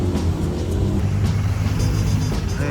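Dense car traffic crawls along a busy street in Malaysia, a continuous low engine rumble with passing vehicles close by, steady throughout and without speech.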